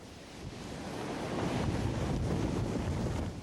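Ocean waves surging and retreating in the tidal zone at Kilauea, where lava rubble tumbles down the slope; a steady, loud, broadband wash of surf with wind noise, rising slightly and sustained throughout without talk.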